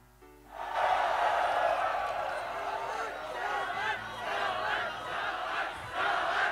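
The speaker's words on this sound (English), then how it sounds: "You can hear the crowd chanting." Large esports arena crowd at a League of Legends tournament (Rift Rivals, LCK vs LPL vs LMS semifinals) chanting loudly and steadily, a dense roar of many voices with rhythmic swells that holds throughout.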